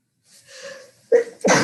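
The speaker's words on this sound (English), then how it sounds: "Sorry, I felt that sneeze coming on." One person sneezes close by: a soft breathy intake, then two sharp, loud nasal bursts with no talk around them.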